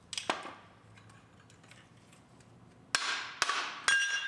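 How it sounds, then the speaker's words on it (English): A hammer taps at a corroded car hub part from a parts car, a sharp metallic strike early on, then quiet, then three hard ringing blows close together near the end. "I even got an actual hammer for this job"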